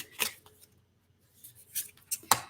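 Tarot cards are shuffled by hand in short, crisp papery bursts, a few quick riffles separated by brief pauses, close and fairly quiet.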